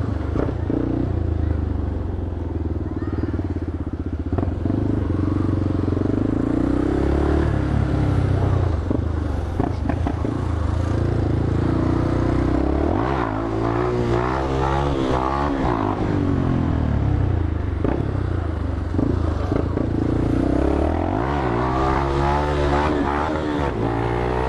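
A motorcycle revving hard while popping a wheelie at a street gathering in a favela: loud, close engine roars that swing repeatedly up and down in pitch over a steady rumble, with a few brief voices in the background.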